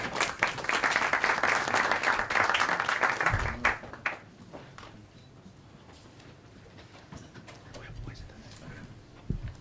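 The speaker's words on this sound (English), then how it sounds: "I'd like, with a round of applause, to welcome our distinguished guest, Miguel Ángel Toma" A room of people applauding to welcome a distinguished guest, loud sustained clapping for about four seconds that then drops away to quiet room noise, with a few scattered claps near the end.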